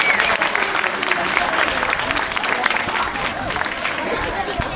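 Audience applauds at a musical performance, a dense, steady wash of clapping that carries on evenly throughout with a faint murmur of voices underneath.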